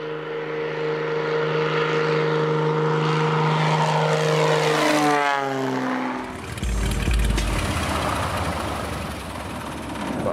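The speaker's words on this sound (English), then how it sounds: "here comes this plane landing, you know, on the road" A small propeller plane lands on a road used as a bush airstrip. Its engine drones loudly, then the pitch sweeps down and it shifts into a rough, close rumble.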